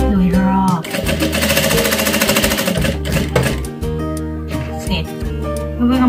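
A bag-sewing machine stitches fabric with a loud, close, continuous mechanical whirring and rapid needle pulsing, running for several seconds with brief changes in pace, while someone talks over it.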